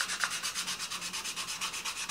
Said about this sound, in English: I'm gonna go ahead and take this down to 320 grit